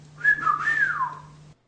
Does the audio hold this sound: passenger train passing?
no